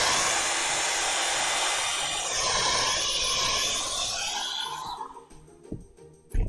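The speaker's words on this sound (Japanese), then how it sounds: "ごめんなさい、ドライヤーうるさいですけど。" A hair dryer blows loudly and steadily near a watercolor painting as it dries the paper. The rushing air goes on without a break for several seconds, then cuts off and leaves a few faint knocks.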